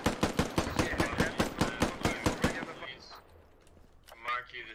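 Rapid automatic gunfire in the video game Squad, a dense, evenly spaced burst of loud shots for about three seconds, then quieter scattered sounds with voices briefly audible.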